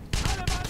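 A short fusillade of gunshots in the World War II shooter Wolfenstein, during a church level, sounding as two or three loud, closely spaced bursts within under a second.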